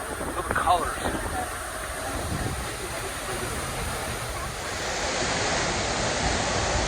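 Seljalandsfoss waterfall in Iceland roars with a steady, loud broadband rush of falling water that fills the whole clip, growing slightly stronger toward the end.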